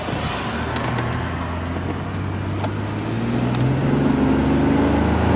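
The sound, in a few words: Buick Lucerne GM 3.8 engine running after throttle body replacement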